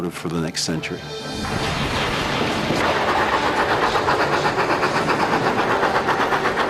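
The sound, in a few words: 19th-century steam locomotive running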